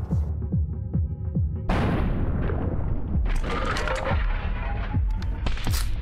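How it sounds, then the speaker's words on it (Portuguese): A single loud shotgun blast in the video game Buckshot Roulette cuts through a throbbing, pulsing hum and leaves a rumbling, booming decay that hangs over the steady game ambience. "Eu vou atirar nele."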